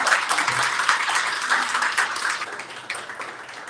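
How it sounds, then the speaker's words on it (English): Audience applause at a book event, a steady wash of many hands clapping that swells briefly and then tapers off toward the end. "Another round of applause, everyone."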